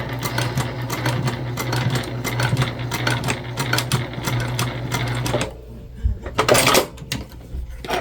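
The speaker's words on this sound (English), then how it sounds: "some back stitching at the beginning and the end" A sewing machine stitches a fabric bag, running in a fast steady whir with a brief back-stitch, then stopping as fabric rustles and clicks close by.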